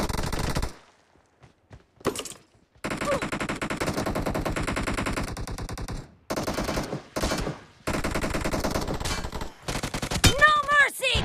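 Rapid automatic gunfire from the video game BGMI comes in loud, dense bursts separated by short silences, close and dominant throughout.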